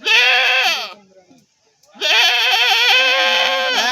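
Goats bleating loudly and close at a weekly goat market, two long wavering cries separated by a short quiet gap with faint background sounds.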